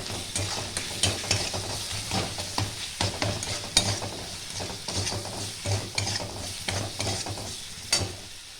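Spice paste for an elephant-foot yam curry with hilsa fish heads is stirred and fried in a pan, giving a steady soft sizzle broken by repeated scraping strokes of the spoon, close and fairly loud throughout.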